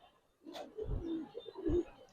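Giribaz pigeons, a silver khaki pair, give soft low cooing calls at close range, two short throaty bursts over a quiet background.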